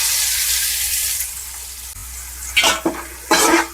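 Onions and three bay leaves frying in a pan for an Arabian chicken kabsa biryani, a steady close sizzle throughout with a few louder bursts of stirring near the end.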